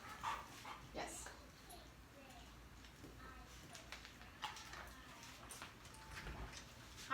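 A dog whimpers and gives a few yips and barks during front door behavior training, the sounds scattered and fairly faint, mixed in with people talking nearby.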